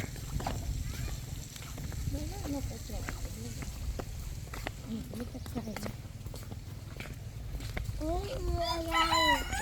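Chickens and golden pheasants calling in an aviary at a cafe, with clucks and a crowing rooster near the end, under steady background noise and people talking.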